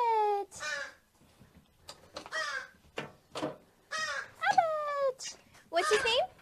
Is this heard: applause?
no